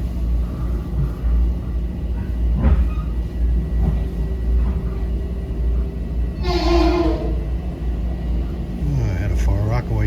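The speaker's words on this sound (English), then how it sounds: "I had a Far Rockaway train blast by." A Far Rockaway line train passes close by with a loud, continuous rolling rumble, punctuated by a brief horn-like blare and squealing tones, while a voice talks over it.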